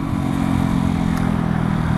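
A Beta RR Enduro 125 motorcycle with a 15-horsepower engine runs at steady revs, a loud, close, buzzing drone that holds level throughout without pauses.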